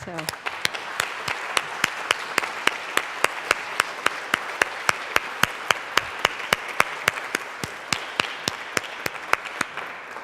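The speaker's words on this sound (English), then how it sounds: "And I ask that you would just stand so we can know who you are and applaud you." Audience applause at a distinguished alumni awards ceremony as members of a 50th reunion class stand, a steady wash of clapping punctuated by evenly spaced sharp beats for about ten seconds, with a voice faintly present underneath.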